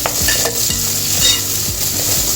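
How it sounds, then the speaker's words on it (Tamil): Onions fry loudly in a pan for a crab pepper masala, a dense continuous sizzle close up with regular scraping strokes as they are stirred. "வெங்காயம் கொஞ்சம் நேரம் வதங்கட்டும்"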